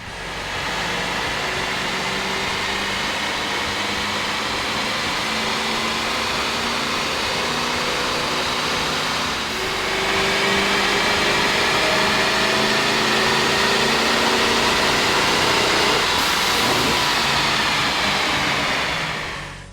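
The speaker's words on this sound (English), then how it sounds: "we ran the vehicle on the dyno to test the sound comparison versus the stock intake" Chevrolet/GMC full-size truck, Silverado, Sierra, Suburban, Tahoe, Yukon or Escalade, fitted with an aftermarket air intake and running on a dyno; a loud, steady engine drone that holds and then rises slightly, with no talk.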